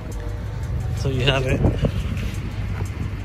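A Honda Integra DA9 car engine idles with a low, steady rumble underneath a man's nearby speech.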